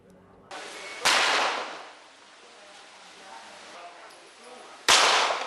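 Gunshots ring out at a shooting competition on an outdoor firing range in Banyuwangi, two sharp loud reports a few seconds apart with a lingering echo and low background noise between them.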